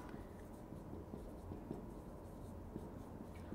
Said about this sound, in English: I write the word here.